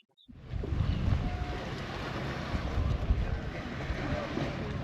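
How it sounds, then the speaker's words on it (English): Breezy wind at the St. Peter Port marina, a steady broad rumble of gusts buffeting close with a faint hiss of water and boats beneath. "It's a bright and breezy day here in St. Peter Port"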